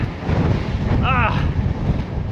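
Heavy wind buffeting the microphone outdoors in Canada with a constant low rumble, and a brief faint voice-like warble partway through.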